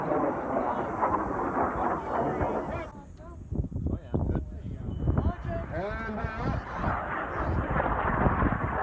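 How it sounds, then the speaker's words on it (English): Rocket launch at the IREC 2019 rocketry competition sends a distant, rumbling roar through wind, swelling and lingering for several seconds while people talk and call out nearby. "Run, launch. Rocket away, rocket away."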